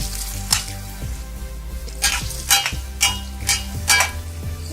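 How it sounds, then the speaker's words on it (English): Besan gatte, gram flour dumplings, shallow fry in a pan with a soft steady sizzle while a spoon scrapes and clinks against the metal in repeated stirring strokes. "we need to shallow fry these besan ke gatte until they are a little crispy and golden brown"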